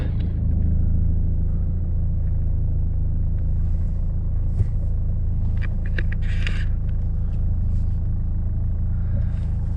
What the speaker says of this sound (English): Let's move the car a little bit.